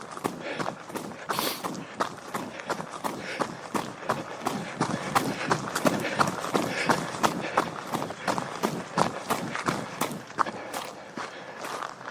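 Running footsteps pound up a gentle hill outdoors in a quick, even rhythm of thuds that stay close and loud from start to finish.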